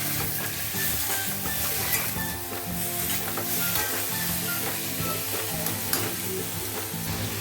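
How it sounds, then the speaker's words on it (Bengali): Chopped amaranth stalks stir-fried in a pan with spices for an amaranth and chickpea dish, giving a steady close sizzle throughout with repeated scraping stir strokes and small clinks, without any talk. "এখন অ্যাড করে দেবো কুচনো আমি যে নোটের খাড়াগুলো দেখেছি ওটা আমি অ্যাড করে ভালো করে মশলার সঙ্গে কষিয়ে নেবো"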